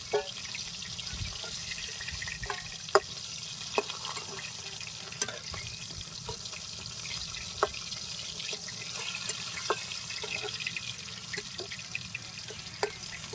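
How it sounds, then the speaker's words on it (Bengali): Pangas fish frying in a pan, a soft steady sizzle with scattered light clicks and scrapes at irregular intervals, fairly quiet and close. "একটু ভাতে মাছ খাবে এই জন্য একটু ভালো করে ভাজা হবে"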